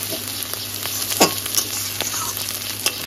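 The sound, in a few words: taro stolons frying in a little oil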